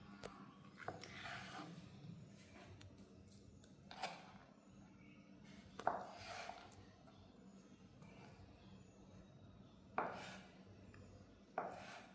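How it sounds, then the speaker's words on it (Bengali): Knife cutting paneer into medium cubes on a board, a few sparse sharp taps spaced several seconds apart, quiet and close, with faint kitchen background. "এখন আমি পনিরটা কেটে নেব।"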